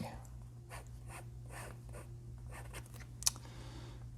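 A Montblanc Meisterstuck fountain pen nib with slightly sharp sides scratches across paper in soft, repeated strokes, faint and close, over a steady low hum with one brief sharper tick near the end.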